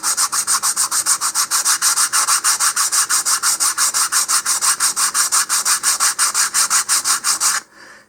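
Steady, rapid back-and-forth rasping of a sandpaper block on a model rocket part, about four strokes per second, close and loud, continuing for several seconds before stopping.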